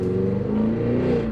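A supercharged 2023 Cadillac Escalade V with 682 horsepower and all-wheel drive accelerates across a parking lot, its engine note rising in a loud, continuous, throaty roar heard from inside.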